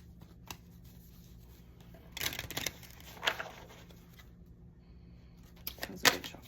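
Tarot cards being shuffled during a zodiac reading, heard as a few short, crisp riffling bursts separated by quiet pauses, close up and fairly soft.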